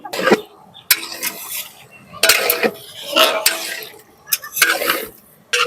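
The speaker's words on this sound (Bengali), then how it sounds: "এবার দিয়ে দেবো খুব সুন্দর করে ধুয়ে রাখা চিকেনটা।" Washed chicken pieces are tipped into a large pot of spice paste for a village-style palak chicken curry, with a few sharp metallic clanks and bursts of wet sloshing and scraping separated by short quiet gaps.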